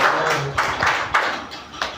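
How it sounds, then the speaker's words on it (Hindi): Applause from a group of people, a steady patter of clapping with a few sharper claps standing out. "जोरदार ताली"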